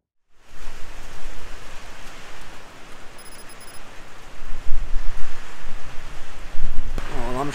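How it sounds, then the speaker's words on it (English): Wind gusts and a November rainstorm patter on the roof of a building at a British Columbia hunting camp, a dense hiss that builds and surges in waves, loud and close throughout. "heard the wind pick up and the rain start hitting the roof of the building here"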